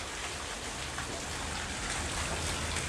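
Heavy monsoon rain pours down outside a house taking on floodwater, a loud, unbroken roaring hiss of downpour with no gaps or voices.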